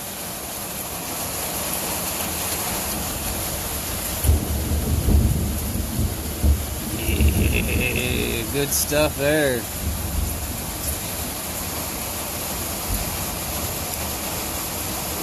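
A thunderstorm with downpour and wind roars steadily outdoors, low rumbling thunder swelling midway, while a voice speaks briefly over the constant rain hiss.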